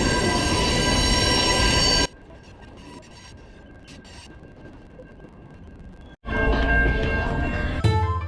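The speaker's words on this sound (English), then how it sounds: "In this insanely long freight train, we can see some UTLX cars." A very long freight train with UTLX tank cars passes in Chicago, its steady loud rumble and wheel squeal heard close, easing to a quieter roll before swelling loud again.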